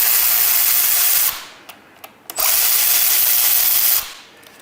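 Power tool driving out Torx 27 bolts from a motorcycle handlebar clamp, two loud close bursts of whirring motor separated by a brief pause with small clicks.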